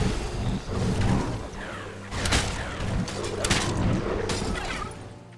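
Grenade blasts in the video game Hexen: Wrath of Cronos, with several booming bursts landing amid steady loud combat noise, a couple of them sharper and nearer.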